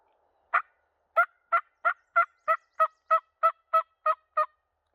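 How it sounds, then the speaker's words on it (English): Eleven evenly spaced, sharp calls ring out in a quick rhythmic series, a wild turkey gobbling or clucking on Oregon public land, clearly against a silent background. "I think I just heard a turkey."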